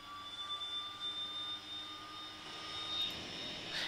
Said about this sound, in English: So, right engine start.